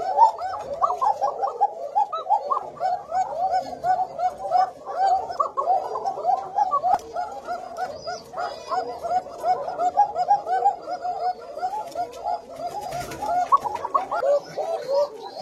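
Koka pigeons with thin, fine calls, cooing close and steadily in a farm loft, many overlapping rolling coos repeating without pause.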